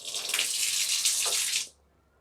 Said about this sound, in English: See that this valve is turned on